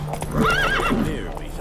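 Roach, Geralt's horse in the video game The Witcher 3, gives one close, loud whinny with a rising and falling pitch, while hooves clop underneath.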